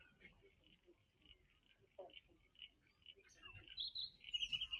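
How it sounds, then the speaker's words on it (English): Willy wagtails call in a wetland, their faint, thin chirps repeating through quiet surroundings and rising to a brighter, busier run of calls near the end. "I think they're willy wagtails."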